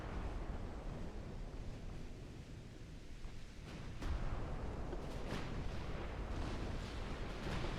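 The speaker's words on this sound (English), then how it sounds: "There's an ammo detonation." Naval gunfire in the Ultimate Admiral: Dreadnoughts game, a dense low rumble of distant cannon blasts and a ship's ammunition detonation swelling louder partway through, continuous and roaring with no talk.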